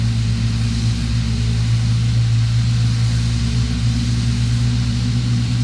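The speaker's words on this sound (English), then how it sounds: "Wow, listen to those engine sounds." Boeing 777-300ER jet engines running in the X-Plane 12 flight simulator, heard from the external view as a loud, steady, unbroken drone with deep low rumble and a constant hiss above.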